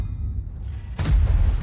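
A tank cannon shot in a World of Tanks-style game, striking the cupola of a 50TP tank: a sudden loud boom with a deep low rumble that follows a quieter stretch of engine hum.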